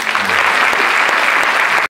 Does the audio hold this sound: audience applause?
yes